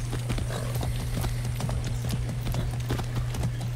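Horse hooves clip-clop in the video game Far Cry 6, a steady, fairly loud trotting rhythm of quick hoof strikes over a constant low hum.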